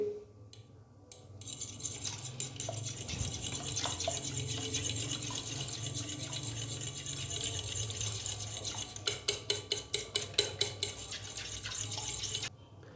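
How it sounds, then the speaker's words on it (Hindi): Eggs being whisked with milk and crushed chili flakes in a bowl, a steady scraping stir that runs for several seconds and then turns into a quicker run of sharp clinking strokes near the end. "अंडों को अच्छे से फेंट लेंगे।"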